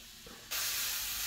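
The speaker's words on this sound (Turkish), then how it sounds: "10 dakika kavuracağız değerli arkadaşlar şöyle." Radish sautéing in a pan, Black Sea style: after a short quiet moment a sudden loud, steady hiss of frying starts and continues to the end.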